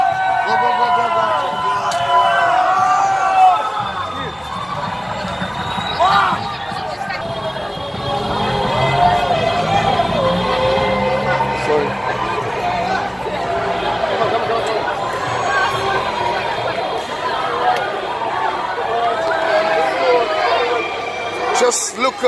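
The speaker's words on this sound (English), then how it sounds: "Just look at this crowd here. They're all going crazy tonight." A dense football crowd celebrates Russia's win over Spain at the 2018 World Cup, with continuous loud cheering, chanting and babble that fills the whole stretch, and nearby voices mixed in.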